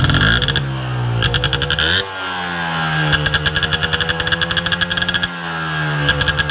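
A race vehicle's engine revving hard as the throttle is blipped, loud and close, surging in rising bursts with rapid rhythmic pulsing between idle dips.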